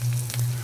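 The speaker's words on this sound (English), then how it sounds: "Sizzle means some smoke, so garlic." Garlic and shallots sizzle and fry in a hot wok, a short, steady, close hiss with a low hum beneath it and a slight swell in the middle.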